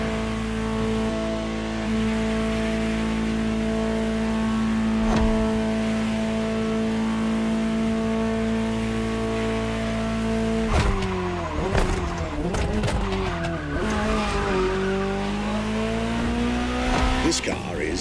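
A Ferrari 288 GTO in The Crew Motorfest video game holds a loud, steady engine drone, then revs up and down as its tires squeal in long skids, with a voice talking over it.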